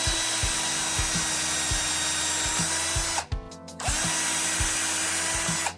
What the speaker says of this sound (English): then just drilling that hole, being careful not to go into the meat of your hand